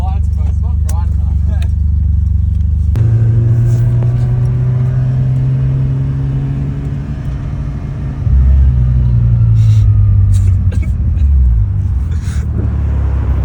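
Mazda RX7 carrying a Christmas tree on its roof drives along with a steady engine rumble and rising revs, while people talk inside the car over the noise.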